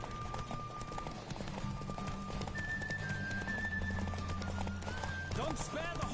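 Horse galloping in The Witcher 3, a steady clip-clop of hooves running under game music and sustained tones, with people talking over it throughout.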